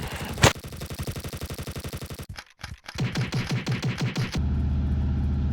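Rapid bursts of automatic gunfire in a video game, a fast repeating volley that stops, then resumes in a second steady stream before fading into a low continuous hum.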